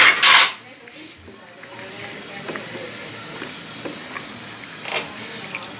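Onions with a cup of yogurt sautéing in a karahi for beef karahi, opening with a loud metallic clatter, then a soft steady sizzle with a few faint scrapes.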